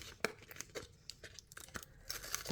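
Close, sharp crinkling and tearing of a thin foil trading-card packet (Panini Spider-Man), in several short bursts with brief pauses between.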